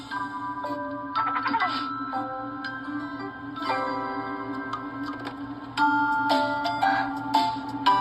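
A melodic electronic chime rings several times, repeating short tonal phrases over a steady low hum, fairly clear and close.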